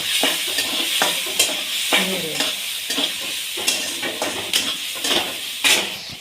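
Tomato and onion fry in a pan, a steady loud sizzle broken by regular scraping stirs roughly every half second to second, close up, with no talking.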